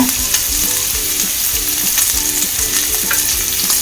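Garlic, green chilli, onion and curry leaves fry in a pan with a loud, steady sizzle, broken by repeated low knocks and scrapes from stirring, and no voices.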